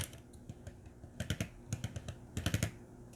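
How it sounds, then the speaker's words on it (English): Rapid bursts of small plastic clicks rattle close up as a 1954 Buick Skylark toy model car's wheels roll, coming in quick clusters with short pauses between them. "Let's do the roll test. You can just see a heavy clicking."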